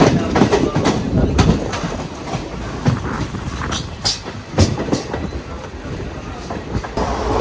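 Mangalore–Chennai Egmore Express sleeper train rolling along, heard from inside: a loud, steady rumble with rhythmic wheel clacks and occasional sharp knocks over the joints.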